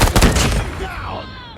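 Gunfire from the video game Call of Duty: a loud burst of rapid shots in the first half-second, then decaying echo and game noise trailing off.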